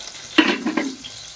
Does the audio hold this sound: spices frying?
yes